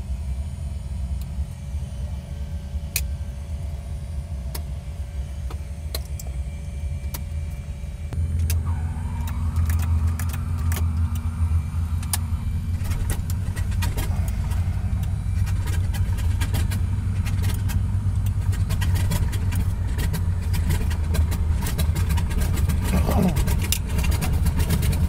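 A Beech 18 twin-engine aircraft starts its right engine, and a low rumble builds into a steady, loud, close-up running drone while crew voices talk over it.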